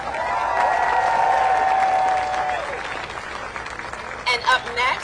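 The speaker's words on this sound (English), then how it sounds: "Let's give Congresswoman Nakima Williams another round of applause." Crowd applause at a voting rights march in Atlanta, steady and loud for nearly three seconds, then thinning, with voices and cheers mixed in over the clapping.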